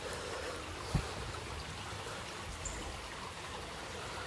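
A river flows beneath a bridge in a steady, faint rush of water, heard from above with a soft bump near the start.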